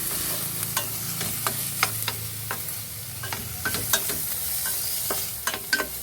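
Tomatoes fry in a little hot oil with mixed vegetables, giving a continuous sizzle under sharp intermittent clicks and scrapes of stirring, close and fairly loud, with no voices.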